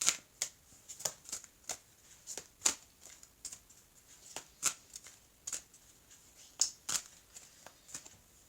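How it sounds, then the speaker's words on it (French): Tarot deck being shuffled by hand, a quiet, close series of crisp card riffles and slaps in an irregular rhythm with brief pauses between them, no voices. "je vais mélanger les cartes comme il faut"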